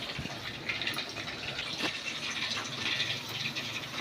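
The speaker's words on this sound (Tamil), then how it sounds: "புளி கரைச்சி ஊற்றியாச்சு." Dissolved tamarind water is poured into a fish curry, a soft steady liquid splashing and filling sound, faint and close, running continuously without talk.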